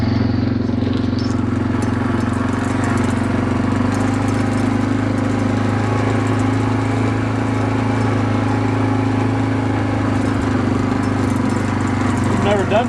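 A quad ATV carrying two riders on a trail ride, its engine giving a steady, loud, humming drone throughout with a constant low throb and little change in pitch.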